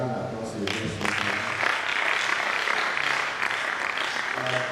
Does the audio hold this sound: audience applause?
yes